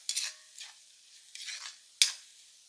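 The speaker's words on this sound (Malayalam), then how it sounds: "ഇനി ഇതും ഒന്ന് നല്ല പോലെ വഴന്ന് വരട്ടെ" Tomatoes for beef biryani sauté in a pan, a few close stirring scrapes over a light sizzle coming in short separate bursts, quiet, with no voices.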